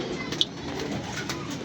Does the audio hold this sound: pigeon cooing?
yes